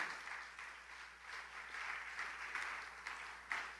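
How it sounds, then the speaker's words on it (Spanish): A church congregation claps, giving applause to the Lord during a Spanish-language sermon: a steady, moderately faint wash of clapping from many hands that swells and dips slightly throughout. "¿Le puedes dar un fuerte aplauso al Señor?"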